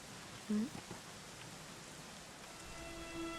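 Steady rain falls in the video game Dragon Quest XI S as a faint, even hiss, with a few soft game sounds over it.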